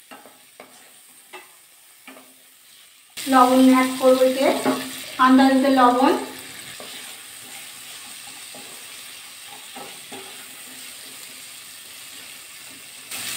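Drumstick pieces, beans, carrot, potato and pointed gourd stir-fry in a pan with a soft steady sizzle, while someone speaks briefly partway through.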